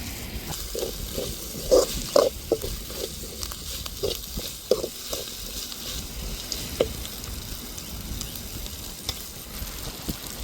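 Mint and coriander sizzle in a hot frying pan, a steady crackling hiss broken by a series of soft scraping stirs clustered early on, close and moderately loud.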